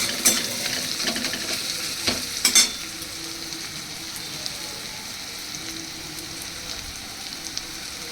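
Crushed garlic fries in a pan with a steady, close sizzling hiss, broken early by a few brief stirring clinks before the frying settles into an even crackle.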